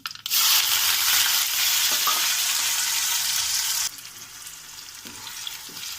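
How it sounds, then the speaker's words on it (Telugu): Mustard and cumin seeds fry in oil for a cauliflower fry, giving a loud, crackling sizzle. Partway through, onion and curry leaves go in and the sizzle drops to a softer, duller frying hiss. "ఆవాలు జీలకర్ర వేసి ఫ్రై అవుతుంది కదండి"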